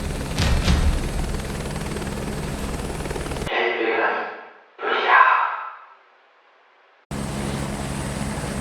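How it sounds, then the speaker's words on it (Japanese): An H125 helicopter flies in the Microsoft Flight Simulator 2024 game near Mount Fuji, its rotor and turbine drone heard loud and continuous, cut away in the middle by a quiet gap with a low voice before the drone returns. "ヘリはダウンウォッシュによって上昇する。"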